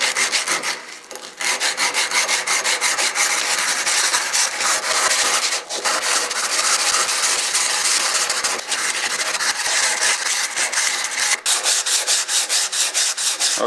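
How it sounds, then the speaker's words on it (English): An axe head is polished by hand with emery cloth and WD-40, wrapped around a length of 1-inch pipe. Loud, close, rapid back-and-forth scrubbing rasps continuously, with only brief pauses, and no voices. "now I'm gonna continue using the emery cloth"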